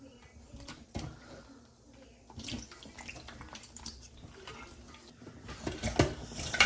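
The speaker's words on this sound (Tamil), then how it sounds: "காளான் கழுவக்கூடாதுன்னு சில பேர் சொல்லினோம். ஆனால் நான் கழுவுறேன்." Running water from a tap while mushrooms are washed, an uneven splashing flow with occasional clinks of a bowl, fairly quiet and close.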